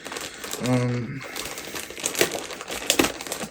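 Crinkling and tearing as a large package is cut open during an unboxing of caps and jerseys, close and scratchy in short bursts, with someone talking over part of it.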